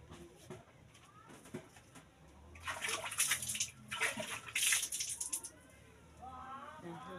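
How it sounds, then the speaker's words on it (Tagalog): Running water splashes over hands being washed, starting softly and rising into loud bursts of splashing, while birds such as pigeons coo in the background and a voice speaks faintly at times. "Hugas ko sa kamot guys kay magkinamot ko"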